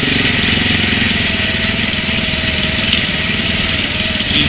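A motorcycle engine runs steadily and loudly throughout, droning up close during a ride through Utah and Colorado, with no voices.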